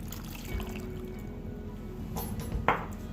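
Water is poured into a crock pot of candied yams with orange juice and butter, a steady low splashing trickle that ends in a brief brighter splash near the end.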